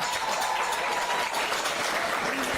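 A crowd at a Miss Jamaica Festival Queen coronation pageant in St. Thomas applauds a contestant with dense, continuous clapping at an even level.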